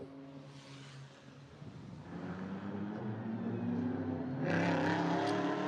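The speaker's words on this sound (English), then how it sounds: "Great noise from the Aston Martin as it growls its way out of Lisboa" An Aston Martin GT4 race car growls out of the Lisboa corner during GT Cup qualifying, its engine note building steadily and rising to a loud, harsh revving pull near the end.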